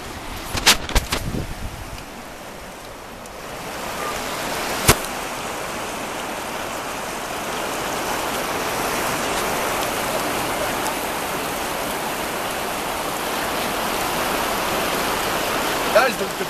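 A river that runs toward Reno rushes steadily, a broad continuous hiss of flowing water heard close and fairly loud, with a few clicks and bumps near the start and one sharp knock in the middle.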